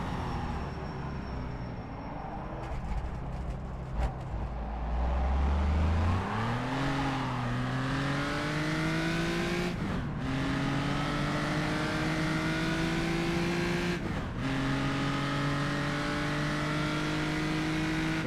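A yellow Belgian-entered race car at historic road racing at Rouen revs up and accelerates steadily, its engine note climbing through gear changes with brief lifts, loud and close throughout with no talk.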